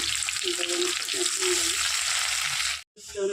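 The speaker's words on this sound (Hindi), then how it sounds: "अभी मैं इसमें प्याज डाल रहे हैं तेल गरम हो गया" Chopped onion sizzles loudly in hot oil in a pan, a dense steady frying hiss with a brief stir and a short break near the end, with a faint voice underneath.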